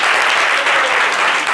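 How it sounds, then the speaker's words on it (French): A studio audience at a television variety show bursts into loud, close applause, a brief dense wash of clapping lasting under two seconds. "Applaudissez Lydia"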